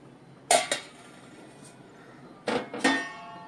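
Stirring snake gourd and dalimbi (field beans) in a cooking pot: two pairs of sharp metallic scrapes and clinks of a spoon against the vessel, close by, with quiet pauses between and no talk.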